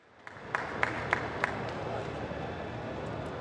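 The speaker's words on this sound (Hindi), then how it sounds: "एक बार ताली बजाकर हमारे सभी आदिवासी भाई हमारे मुख्यमंत्री का स्वागत करें।" A large crowd of tribal people at a Jan Jatiya Mahasabha rally in Jhabua, Madhya Pradesh applauds the chief minister: a dense, steady wash of clapping from a distance, with a few sharper claps standing out early on.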